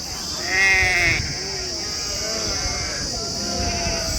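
Several sheep bleat in overlapping, wavering calls, one louder and close at first, others continuing around it in a noisy flock at a sheep market in Macherla.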